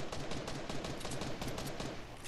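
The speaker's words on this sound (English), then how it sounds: "He's shooting." Rapid gunfire in the Fortnite video game, a dense run of repeated shots packed closely together and continuing steadily throughout at moderate loudness, with no talk over it.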